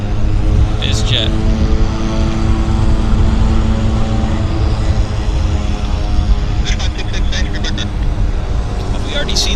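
A business jet at Vancouver airport passes loudly with a dense, steady engine roar that fills the whole stretch, with a few faint high chirps riding over it.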